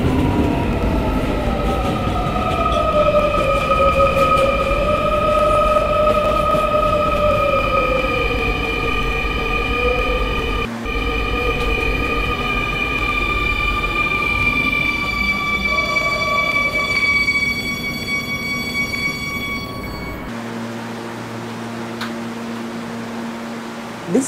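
An R220S 7 express subway train in the Roblox game PTA Classic: Kennedy Lines runs with a loud, steady electric motor whine whose tones rise and shift over time. Near the end the drone gives way to a lower hum as the train slows.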